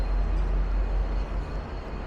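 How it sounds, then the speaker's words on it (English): A steady low rumble of trains running in a tunnel beneath a city street in Melbourne, a continuous deep drone that stays fairly even throughout, with no talking. "Hear the rumble of the trains under us."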